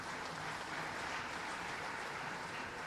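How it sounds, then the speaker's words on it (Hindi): An audience at an official government event in India applauds steadily to welcome Olympian Ashok Dhyanchand, a dense, even wash of clapping that stays level and somewhat distant throughout. "अशोक ध्यानचंद जी का भी ताली बजा के स्वागत कीजिए"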